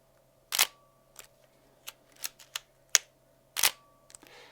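A Leica R8 single-lens reflex camera fires its shutter and mirror several times, each release a crisp, damped mechanical clack, two of them louder, scattered over a few seconds in a quiet room with no talk.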